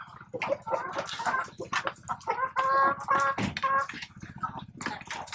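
Rhode Island Red breeder chickens clucking close by in a busy, overlapping series of short calls and squawks, loud and clear with no talk over them.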